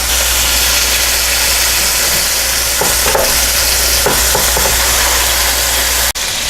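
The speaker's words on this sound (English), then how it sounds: "Just before I take the burger patties out of my cast iron skillet, I'm going to flip them back over to the first side" Burger patties fry in a cast iron skillet for Steak 'n Shake-style Frisco melts, giving a steady, close sizzle over a low hum, with a few soft scrapes and a sharp click near the end. No one speaks.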